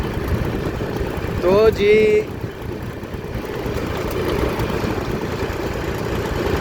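A tractor towing a trolley along a road gives a steady, low rumbling drone throughout, with a brief burst of speech over it early on.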